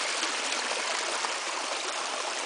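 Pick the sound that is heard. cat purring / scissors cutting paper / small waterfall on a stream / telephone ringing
small waterfall on a stream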